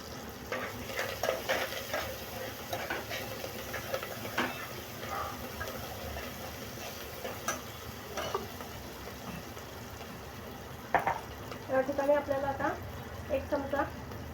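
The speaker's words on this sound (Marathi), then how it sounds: "हे चांगलं परतून घ्यायचं आहे थोडी कोथिंबीर घालूया" Vegetables are sautéed with coriander in a pan, giving a soft, irregular stirring and faint sizzle, with a few light clinks near the end, while a person talks over it.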